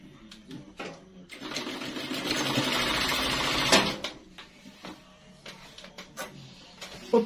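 A sewing machine stitches a seam on a gathered underbust corset gown, a close whirring run of about two and a half seconds framed by soft handling clicks and rustles.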